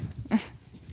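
A dog gives a single short, soft yelp, faint against quiet outdoor background noise.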